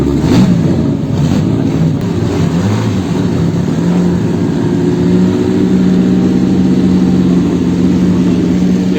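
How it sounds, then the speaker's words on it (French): A 1908 Ford 40 hp vintage car engine revs up at departure from a classic car event, loud close mechanical chugging with rising and falling revs, running continuously without speech. "Départ de la Ford."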